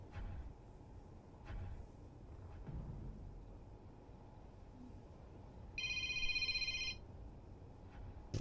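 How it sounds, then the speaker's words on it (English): A mobile phone rings with a short electronic ringtone burst lasting about a second, fairly clear over a quiet background hum with a few faint knocks. "Sorry, my phone went off."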